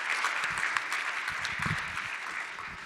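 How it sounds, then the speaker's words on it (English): An audience at a small-town pitch event applauds the founders in an even, sustained wash of clapping with a few sharper nearby claps, moderately loud throughout. "A round of applause for all of them."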